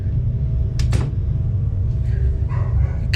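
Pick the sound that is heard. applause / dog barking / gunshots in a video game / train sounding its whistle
dog barking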